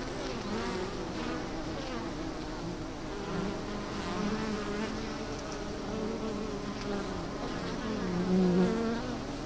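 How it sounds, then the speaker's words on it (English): Many wasps buzz steadily and close by at a sugar syrup feeder after sunset, a dense droning hum that wavers slightly in pitch without pause. "the wasps continue to forage well after sunset"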